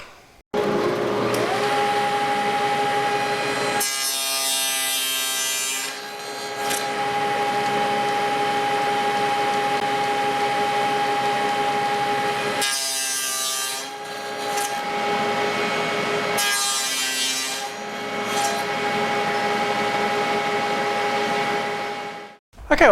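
A power saw cuts wooden box sides clamped in a jig on a sliding carriage, running as a steady loud whine with three bursts of harsher cutting noise as the blade passes through the wood.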